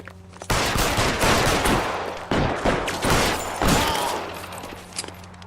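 Sustained automatic gunfire in a video game, loud and near, breaking into rapid bursts with brief pauses before tapering off.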